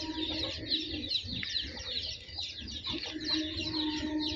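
A flock of pure desi village chickens clucks continuously at close range, the overlapping calls forming a dense busy chatter with no talk over it.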